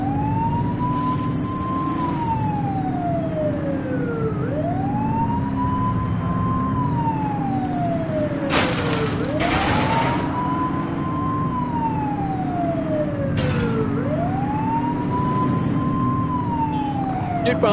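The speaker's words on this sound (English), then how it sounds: "You're only meant to use the siren in emergencies." A police car siren wails steadily in The Precinct video game, rising and falling in long repeating sweeps over a constant engine drone, with a couple of brief bursts of noise cutting in.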